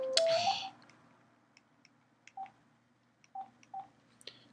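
Mobile phone tones: a brief rising electronic chirp, then a few short, spaced beeps and soft clicks, close and fairly quiet over a near-silent background.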